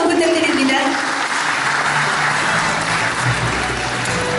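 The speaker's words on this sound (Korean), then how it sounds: "여러분 큰 박수 한번 부탁드립니다" Applause from the audience at a Gumi city International Safe Community certification ceremony as a plaque is presented, steady broadband clapping filling the hall throughout, with a voice talking over it.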